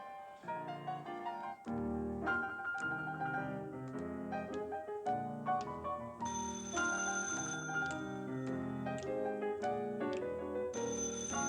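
An old-fashioned telephone bell rings out over a lively stage orchestra during a show rehearsal in a 1954 musical, its bright ringing emerging in bursts above the loud, continuous band music.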